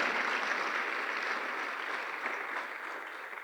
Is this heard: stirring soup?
no